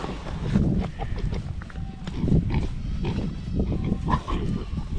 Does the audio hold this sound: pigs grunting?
yes